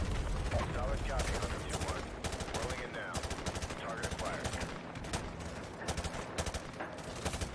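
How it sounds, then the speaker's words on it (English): Rapid automatic gunfire from Call of Duty Modern Warfare 2 Remastered: dense, close, overlapping bursts of shots rattle continuously, with brief gaps between volleys. "I was actually too busy shooting at these guys across there"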